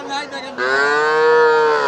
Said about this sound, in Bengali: প্রচুর পরিমাণে গরু আছে আজকে